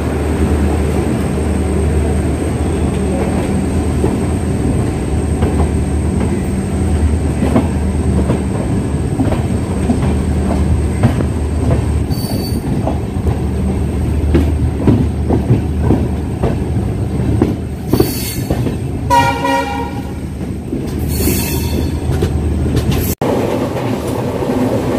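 The Avadh Assam Express rolls out of Simalguri railway junction in India, its wheels clattering steadily over the rails with a continuous rumble. Bursts of metallic wheel squeal rise near the end, heard from on board.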